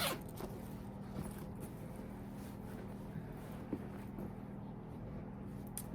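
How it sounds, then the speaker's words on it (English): A zipper runs along the top of a Myra purse as it is opened, a quiet ratcheting rasp under a low room hum. "it also has a zipper top"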